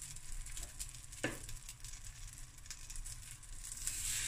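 Blueberry pancakes frying in a pan give a quiet, steady sizzle with faint crackles and a brief scrape partway through, heard alone without talk.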